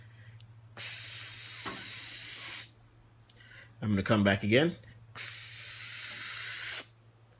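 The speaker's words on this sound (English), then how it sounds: "Then I'm going to spray from the outside all the way across to the outside on the other side and stop." Two long, even bursts of a spray paint can misting an RC car body, each lasting about two seconds, with someone speaking briefly between them.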